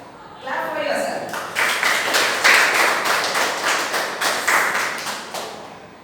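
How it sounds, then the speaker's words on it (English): A Grade IV school class claps for themselves in unison, producing a steady rhythmic pattern of loud, close claps, roughly two or three per second. A brief voice is heard just before the clapping begins. "Clap for yourself."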